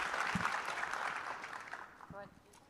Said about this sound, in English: I think that deserves a pretty significant round of applause